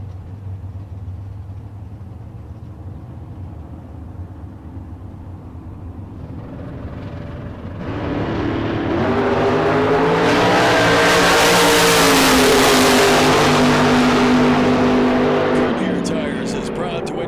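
American race cars at a drag race idle and rumble, then one launches into a loud, sustained roaring acceleration that swells through the middle and tapers off, with announcer-style talk running over the engine noise.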